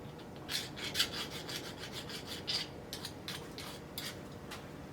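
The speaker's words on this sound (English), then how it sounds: "we'll just go around it quick. Break the burrs that we're loading on." A metal part being deburred on a small lathe gives a series of soft, raspy rubbing strokes over a low steady hum, quiet and close, with no talking.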